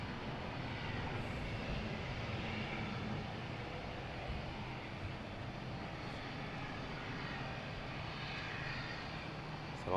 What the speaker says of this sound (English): So off nicely with the Amsterdam flight.